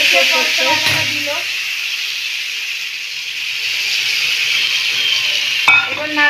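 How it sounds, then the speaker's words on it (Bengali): Radhuni seeds tempering in hot oil give a loud, steady sizzle and hiss with a few stirring knocks near the start and end. "রাঁধুনি ফোড়ন দিলাম"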